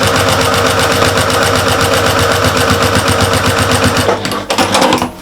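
A sewing machine runs fast and steady, top stitching a fabric bag pocket with brown thread, loud and close with a rapid even rhythm before it slows and stops near the end.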